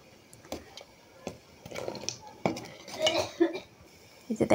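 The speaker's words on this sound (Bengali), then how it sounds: "এখন বেশি বলক করতেছে, তার জন্য ভালোভাবে নাড়াচাড়া করতে হবে অনবরতভাবে" Spoon or ladle scraping and clinking against a pot of boiling milk tea, irregular metallic knocks and rattles during stirring, close by and fairly quiet, with a faint bubbling background.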